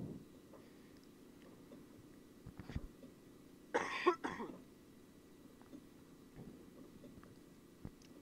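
A single short burst of coughing rises midway over a quiet low rumble of a Train Simulator 2018 cab on a North Wales route, with faint clicks scattered around it.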